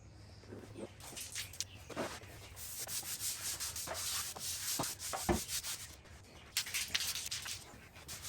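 Sandpaper grinding across a garage floor produces a steady, close, rough rubbing and scraping noise with repeated strokes and brief pauses, and no one speaks.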